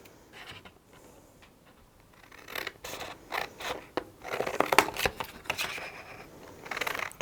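Scissors snip and trim close up through a paper die-cut, giving quiet, uneven clusters of crisp cuts and scrapes that grow busier in the second half, with no talking.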